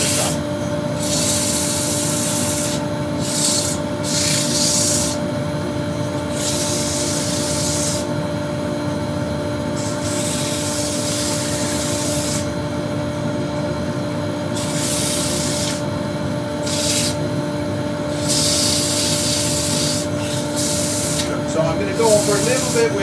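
Steady, loud abrasive rubbing as 100-grit sandpaper works a wooden burr bowl spinning on a lathe, with a constant motor hum beneath and the scratchy hiss swelling and easing in repeated passes.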